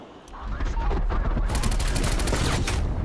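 Rapid bursts of automatic gunfire ring out in the shooter game Black Ops Cold War, loud and dense, building into a sustained volley after a brief lead-in.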